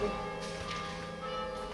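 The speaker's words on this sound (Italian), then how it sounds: "Campana. Probabilmente è della chiesetta che abbiamo visto prima." A church bell rings from a small church close by, its steady, sustained metallic tones filling the quiet surroundings with a resonant hum.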